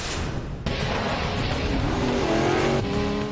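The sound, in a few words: motorbike chase engines racing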